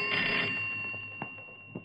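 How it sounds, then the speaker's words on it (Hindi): A telephone rings in an old 1968 Hindi film scene: a steady electronic ringing tone, fairly soft and continuous, with a few faint knocks in the background. "टेलीफोन"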